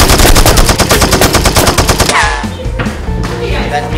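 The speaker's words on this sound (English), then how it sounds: "That's me blocking the bullets." Rapid automatic gunfire rattles through a film action scene in a loud, steady close burst for about two seconds, then breaks into scattered shots and impacts.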